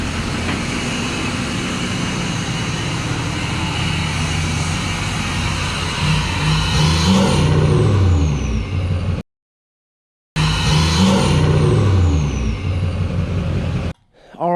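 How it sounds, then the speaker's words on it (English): A Duramax pickup truck rolls into a garage, its diesel engine rumbling steadily and loudly up close with a rising rev partway through, then cutting out briefly before the engine sound resumes. "So let's get the Duramax pulled up in here and start putting bumpers back on."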